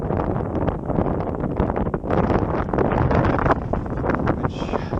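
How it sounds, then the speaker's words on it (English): Strong wind buffets the microphone while float tubing and fly fishing on a lake, a loud continuous rumbling roar with gusty fluctuations and faint rustling, close and unbroken with no talk. "with the strong wind at my back"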